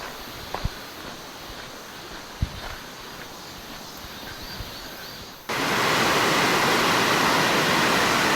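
Water rushing through a remote mountain valley stream at high flow, a steady broadband roar. It is moderate at first with a few footsteps and knocks, then jumps abruptly louder and fuller partway through.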